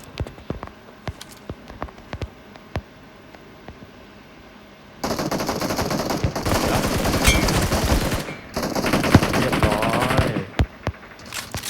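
Gunfire in the mobile game PUBG Mobile, scattered single shots giving way to long rapid automatic bursts, loud and dense, then isolated shots again at the end.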